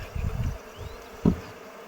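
Faint buzzing of honey bees around a hive at an abandoned apiary, a thin drone with a few soft low thumps close by, no talking.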